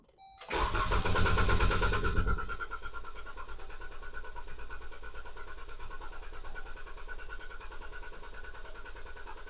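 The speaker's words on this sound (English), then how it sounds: "you need the brake to start the car" A 3.6L engine in a 2011-2021 Jeep Grand Cherokee cranks and catches with a loud surge, then settles into a steady, even idle.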